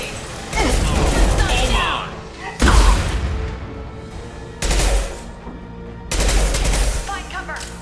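Sustained bursts of automatic gunfire in the video game Mass Effect 2, four loud sustained volleys separated by short gaps, with combat voices calling out over the shooting.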